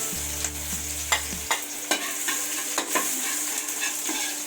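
Garlic frying in a pan sizzles steadily at close range, while a utensil scrapes and stirs in a run of sharp, regular strokes. A brief low hum sits under the start.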